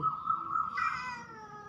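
A stray cat gives a single loud, clear meow that rises in pitch partway through, heard close and alone.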